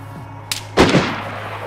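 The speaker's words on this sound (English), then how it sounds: "If he stops, I'm shooting." A rifle shot rings out in the snowy survival game DayZ, one sharp crack followed by a booming report that fades into a long echoing tail.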